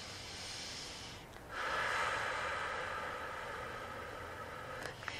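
Slow, deep breathing during a guided meditation, a steady airy rush that swells and holds for several seconds, close and moderately loud with no talking.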